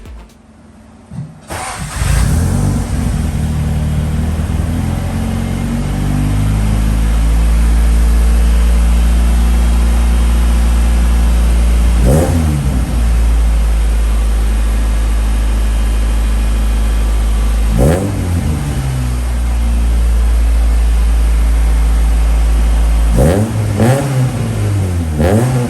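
A Honda Acura Integra DA9 engine fitted with an HKS/Revel exhaust starts up and settles into a loud, close idle, broken by three or four sharp throttle revs that climb and fall back, with no talking.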